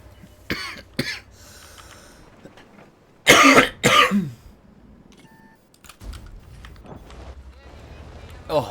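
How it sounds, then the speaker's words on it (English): A person coughs twice in quick succession, a loud, harsh pair of coughs in the middle of a quiet stretch, with lighter clicks and small knocks before and after. "I'm coughing."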